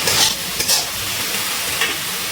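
Spice paste for chhanar dalna fries in oil in a pan, a loud, close, continuous sizzle with a few stirring scrapes, and no voices.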